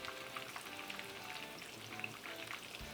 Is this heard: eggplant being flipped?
yes